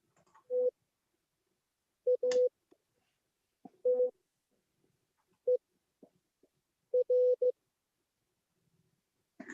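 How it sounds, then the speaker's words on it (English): A Morse code rover message plays as short, clean electronic tones in a sparse pattern of single beeps and brief double and triple groups separated by silence, quiet and steady. "We got to decode some Morse code now."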